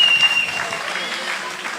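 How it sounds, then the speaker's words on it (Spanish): Audience applause at the opening of a book fair in Guatapé, honoring the moderator of a conversation; a short burst of steady clapping from an indoor crowd, fairly loud and even throughout. "un aplauso para Diana, que moderó muy bien esta conversación."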